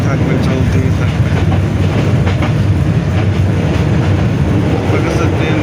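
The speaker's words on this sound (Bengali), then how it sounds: "সবুজ গাছের মাঝে আপনাকে নিয়ে যাবে ট্রেন, চলতেই থাকবে চলতেই থাকবে।" A passenger train running from Sylhet to Dhaka, heard from inside a carriage as a loud steady rumble and rattle of wheels on the tracks, continuous throughout.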